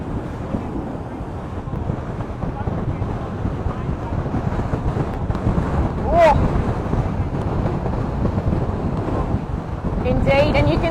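Strong wind roars steadily over open sea during a sailing race, a constant blustery rush with water wash beneath and a voice briefly heard over it.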